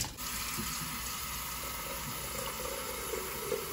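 A kettle's removable filter is rinsed under running water: a steady, close gushing stream that continues without break throughout, with no voices.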